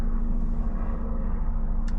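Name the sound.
aeroplane flying overhead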